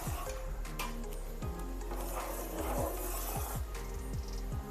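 Jaggery syrup cooking in a pan for puffed rice balls, stirred steadily with a spoon, giving a continuous close sizzle with repeated scraping strokes against the pan, with no talk.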